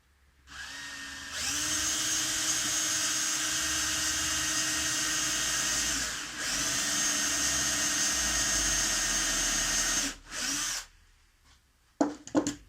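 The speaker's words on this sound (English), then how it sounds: "I can plane the rails before I start planing the board itself." A loud power planer whines steadily across the wooden rails of an old cutting board in two long passes with a brief pause between, then cuts off, leaving a few clunks.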